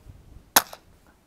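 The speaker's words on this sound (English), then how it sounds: "I'm gonna shoot one more CCI Quiet." A single CCI Quiet .22 rifle cartridge goes off as one sharp, fairly soft crack with a short tail, alone against a quiet background.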